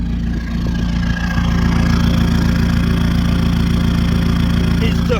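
A Peugeot 306 sedan's XUD turbo diesel engine idles steadily with a low, throbbing exhaust rumble, loud and close, holding an even rhythm throughout with no voices.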